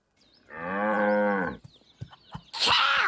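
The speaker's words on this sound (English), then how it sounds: "Cows!" Cartoon cows in a backyard give one long, loud, sustained moo, followed by a few short lowing grunts and then a burst of noisy sound.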